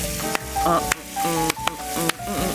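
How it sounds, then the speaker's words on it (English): Steady, loud sizzling of chicken frying in a hot pan, with sharp crackles and a few clanks of a utensil stirring through it. "We're just gonna let it sizzle right there."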